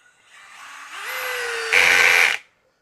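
A DeWalt DCD801 drill driver with its clutch set on 12 drives a 3-inch lag screw into a pressure-treated 8x8. The motor whines and rises in pitch as it bogs into the wood, strains louder near the end, then cuts off.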